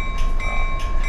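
Train running in the Run8 simulator on the Mojave Subdivision, a loud, close, steady rumble of rolling wagons with sustained high tonal whine and brief rhythmic swells, no talk.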